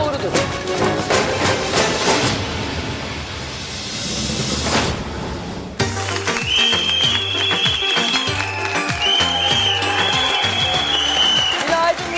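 A studio audience on a Turkish daytime talk show applauds in a dense, sustained wash of clapping that fades briefly before resuming at full strength, with music and a voice joining in the second half.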